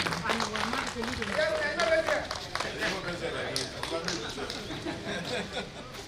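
Audience applause at a school gathering, scattered clapping mixed with chatter and background voices throughout, moderately loud and fairly steady.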